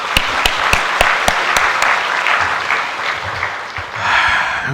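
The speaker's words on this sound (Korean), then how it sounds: "우리 박수로 축복합니다." A church congregation at a children's worship service applauds to welcome visitors, with sharp individual claps at first building into steady, fairly loud clapping that swells again near the end.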